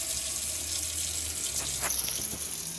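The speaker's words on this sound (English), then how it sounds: "open all the taps up on the hot side of the water system" Water runs steadily from an opened tap in an FC Sprite Lifestyle Quattro 6EW caravan, a continuous close hiss and gush with a faint low hum beneath.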